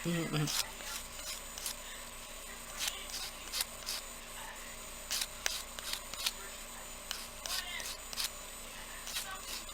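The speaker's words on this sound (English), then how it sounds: "when I sand, I've got my finger right behind to support that polymer clay" A polymer clay earring is sanded by hand, producing soft, uneven rubbing and rasping strokes over a steady low hum, with faint voice in the background.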